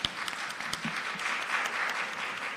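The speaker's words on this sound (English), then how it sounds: "Can we give them a round of applause?" An audience at a national health research conference applauds its session presenters, a moderately loud, even patter of many hands with a few sharper claps near the start.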